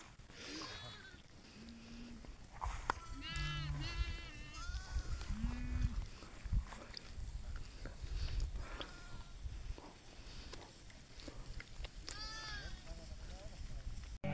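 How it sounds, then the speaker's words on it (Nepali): A flock of sheep on a sheep farm bleats at dawn, several calls rising close by and in overlapping bursts, with voices talking in the background. "भेडाहरू यहाँ यसरी बसिरहेको छ"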